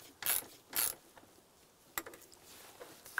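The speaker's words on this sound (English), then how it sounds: "Tighten down the screws." Screws being snugged down during a combination switch replacement on a 1998-2002 Lincoln Navigator, two sharp ratcheting clicks followed by faint scattered ticks and a brief tap, close and quiet.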